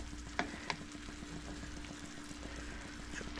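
Trout fillets sizzle in a pan with vegetables on a steady, close frying hiss, with two sharp crackles near the start and faint background noise throughout.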